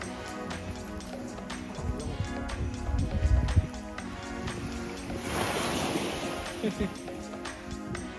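Sea waves washing onto the shore along the southern coast, a broad rushing wash that swells midway, heard under people talking and some knocking and rattling nearby.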